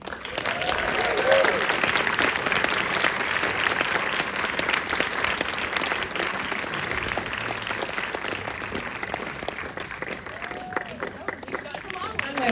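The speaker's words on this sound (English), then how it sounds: "Please keep the applause going." Sustained audience applause fills the room at a film Q&A for the Springsteen film Deliver Me From Nowhere as guests are introduced, steady dense clapping with cheering that continues loud for the whole stretch.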